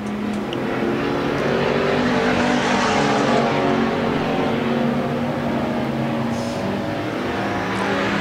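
Pure stock race cars racing at Central Arizona Speedway, a dense roar of engines building as the pack passes fairly close, then easing slightly as it moves on.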